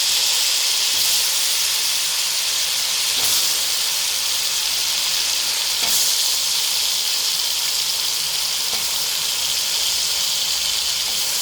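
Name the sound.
chopped mushrooms frying in a pan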